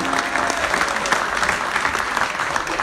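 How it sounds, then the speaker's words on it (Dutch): An audience at an evening event in Utrecht claps steadily, a dense, even patter of many hands at moderate distance. "Echt, geef ze een applaus."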